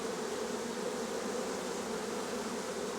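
Honey bees buzz in a dense, steady drone around a light hive frame holding pollen, eggs and a little honey, close and continuous with no talk.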